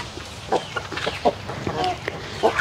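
A rare breed chicken clucking nearby in a series of short, irregular clucks, with faint background talk.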